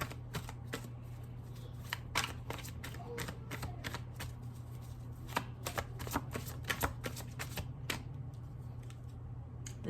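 A deck of tarot cards is shuffled over and over, a run of quick, crisp riffles and flicks close by over a low steady hum, with no talking.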